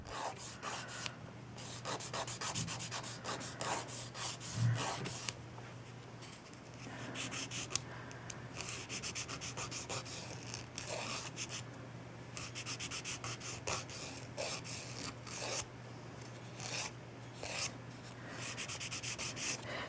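A nail file rubs steadily across fingernail corners to round them, producing a close, continuous scratchy rasping in short repeated strokes with no talking.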